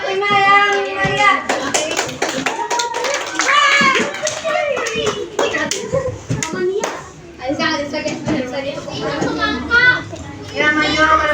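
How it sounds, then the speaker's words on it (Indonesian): Elementary school pupils in a classroom clap for a classmate group, sharp rhythmic hand claps repeating through lively children's voices and chatter, close and energetic. "tepuk tangan lagi buat kelompok 5 yang Maria"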